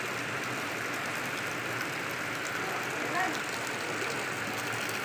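Heavy rain with strong wind during a storm, a dense continuous hiss of rainfall at an even level, with a low engine-like hum beneath and no clear pauses.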